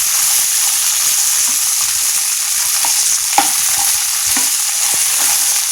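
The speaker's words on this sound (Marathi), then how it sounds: "आपल्याला हा मटार त्या तेलावर छान परतून घ्यायचा आहे." Green peas frying in two tablespoons of oil in a pan over medium heat give a steady, close sizzle throughout, with a few soft scrapes and clicks of stirring and no voices.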